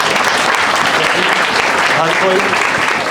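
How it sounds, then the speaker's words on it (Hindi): A large audience of medical students at a counselling session breaks into loud, sustained applause, a thick unbroken wash of clapping with some voices murmuring within it. "एक बार मुझे ना आप सबके लिए एक जोरदार तालियां चाहिए"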